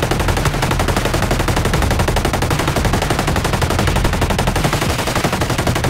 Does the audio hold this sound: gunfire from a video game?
yes